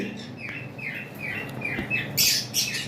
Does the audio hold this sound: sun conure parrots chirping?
yes